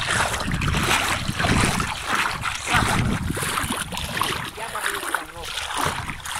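Water sloshing and splashing as a person wades into the Klyazma river, irregular and close, with a voice talking over it.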